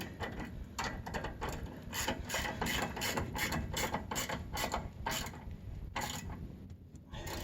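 A ratchet wrench snugs bolts during a DIY car wheel alignment, making rapid bursts of clicking that repeat steadily and close by through the whole stretch, with no talking.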